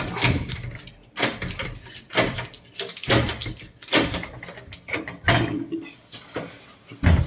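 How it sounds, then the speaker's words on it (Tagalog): A door being opened at an entrance with a red carpet and no lock, with several sharp bursts of metallic rattling and clunking, close and fairly loud, with no talking. "Ito pa yung isa pang pinto."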